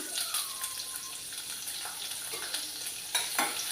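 Chopped onion and chili pieces frying in oil for a curry tempering sizzle quietly, with occasional stirring scrapes and a couple of sharper clinks near the end.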